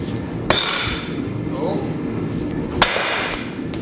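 An 8-pound sledgehammer strikes a nicked steel bar in two sharp, ringing impacts about two seconds apart, with a lighter knock after the second, over steady workshop background noise.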